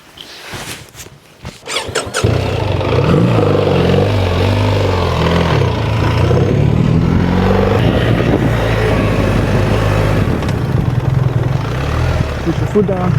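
A BMW R1300GS adventure motorcycle engine rising into a loud, sustained rev as the bike drifts through a U-turn, preceded by a few sharp sounds and mechanical noise, with speech over it.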